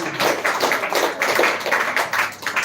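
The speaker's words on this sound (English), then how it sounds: "So once again, clap for Miss Koniki." An audience at a school speech competition grand finale claps steadily, a dense continuous patter of many hands that stays fairly loud throughout.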